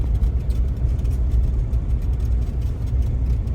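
A truck driving on a frigid Alaskan morning at 26 below zero gives off a steady, heavy low engine rumble and drivetrain drone from inside the cab, continuous and fairly loud with no talking.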